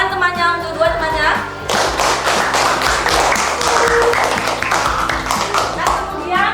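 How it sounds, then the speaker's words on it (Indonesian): Grade 5 primary-school children clap for two classmates in a classroom, a brisk rhythmic burst of hand claps following a brief stretch of voices. "Tepuk tangan temannya untuk dua temannya"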